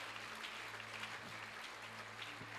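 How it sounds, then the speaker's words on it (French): A congregation applauds and cheers for Jesus during a Sunday church service, a steady, dense wash of clapping held at an even level throughout, with a low droning tone underneath. "Est-ce qu'on peut acclamer Jésus?"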